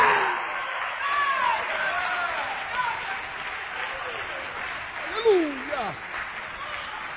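A church congregation applauds during a Pentecostal sermon, moderately loud clapping mixed with vocal exclamations and shouts rising over the crowd.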